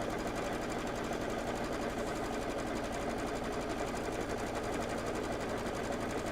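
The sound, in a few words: sewing machine sewing a tack down stitch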